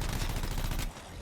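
A short, loud burst of rapid weapon fire and grenade shots in the video game Anthem, dense crackling reports that cut off abruptly after about a second.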